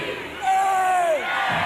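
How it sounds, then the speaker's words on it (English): A packed gym crowd roars at a 1992 men's college basketball regional semifinal against Pace, with a single sustained shout or whoop rising above the broad, continuous cheering. "You can hear the crowd behind us."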